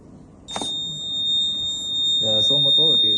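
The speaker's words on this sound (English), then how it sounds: "and then buzzer will be triggered" The buzzer of a smart school smoke-detection system sounds a sharp, steady high-pitched electronic tone that starts abruptly and holds, while a person speaks beneath it toward the end.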